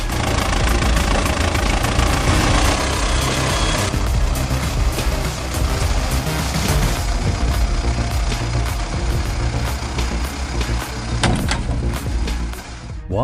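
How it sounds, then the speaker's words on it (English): An 89-horsepower Bellaro MDZ 892 forestry tractor engine runs loud and steady throughout, a continuous heavy diesel drone with clattering mechanical noise while it reloads spilled timber logs onto a truck. "the Bellaro MDZ 892 forestry tractor, packing 89 horsepower,"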